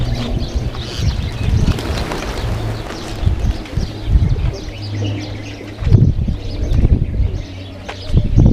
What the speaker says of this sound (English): And the pigeons.